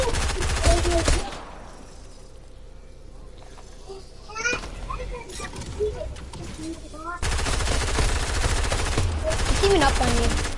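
Gunfire in a video game team battle: rapid automatic bursts crackle loudly at the start and return near the end, with excited young voices talking in between.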